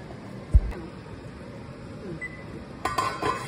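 A metal lid lands on a pot of fish curry with one sharp clank, followed by quiet kitchen hiss and a brief cluster of light metallic clinks near the end.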